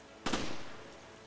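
A single loud gunshot cracks out in Resident Evil Revelations, fired at a fish, with a brief ringing decay and no talk.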